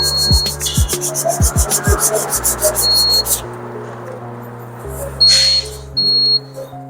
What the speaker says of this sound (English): This sandpaper, you rub it for the dust and the dust particle to remove on it.